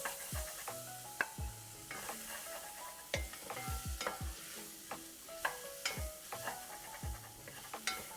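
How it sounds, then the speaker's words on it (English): Garlic and ginger sauté with pork and onions in a pan for pork belly adobo, a soft sizzle broken by frequent spatula scrapes and light metallic clinks at a quiet, close level. "We're going to saute that for a second."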